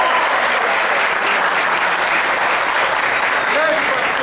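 Dense, loud applause from a live concert audience at an MPB FM stage show, sustained and steady throughout with no break.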